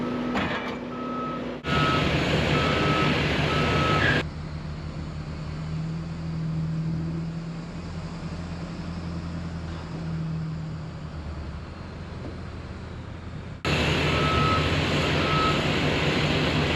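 Reversing beeps sound from trucks and skid loaders while a heavy contraption is unloaded at a landscaping site, a steady repeating tone over loud diesel engine rumble that drops away mid-clip and returns.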